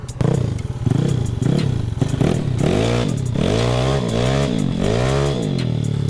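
Vespa scooter engine revving hard in repeated rising bursts, each throttle blip climbing in pitch before dropping back, loud and close with some mechanical clatter and no talk.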